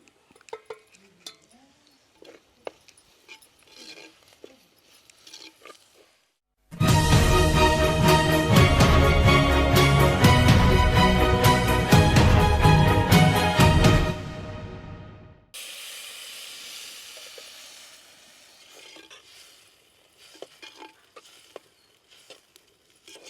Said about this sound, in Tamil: இது எல்லாத்தையும் அப்படியே ஒன்றா சேர்த்து வதக்க போகிறேன்